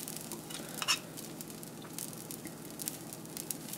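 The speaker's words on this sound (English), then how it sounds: "this is a little ghee. You can put oil also. So I'll be applying on the sides" Ghee sizzling softly as it is spread around the sides of a masala dosa on a hot pan, a quiet, even crackle with a small scrape near the start.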